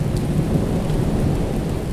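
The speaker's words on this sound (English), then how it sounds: "even though it was raining." Heavy rain pours steadily with a deep, continuous thunder rumble beneath it. The storm is loud and close, with no pauses and no voices.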